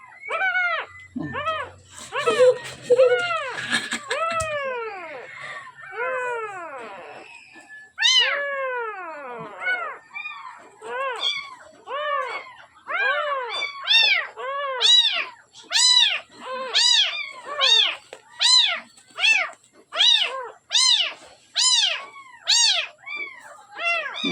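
Week-old kittens mewing repeatedly, a dense series of high, rising-falling cries close by, some overlapping, with short pauses between bursts; a brief rustling sound near the start, no clear talking.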